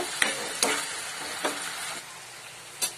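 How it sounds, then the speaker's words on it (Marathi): Chana masala gravy frying in oil in a pan, a soft steady sizzle with a few sharp stir or spatula scrapes spaced across a few seconds, close and moderately quiet. "आता मी 4-5 मिनिटं चांगलं फ्राय करून घेते तेल सुटेपर्यंत."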